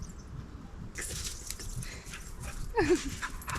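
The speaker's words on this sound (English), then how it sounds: "it's me getting distracted by the neighbour's dog" A neighbour's dog in a garden gives a few short whimpers and snuffly pants, close by, over a low outdoor background.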